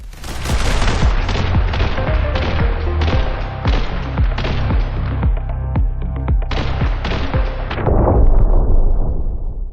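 Heavy gunfire in The Hong Kong Massacre on Switch rattles on in rapid, overlapping shots and booms, loud and nearly continuous for about ten seconds with no talk.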